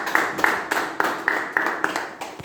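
Audience applause rings out in a series of loud rhythmic claps at a steady beat, close and sharp, without talk.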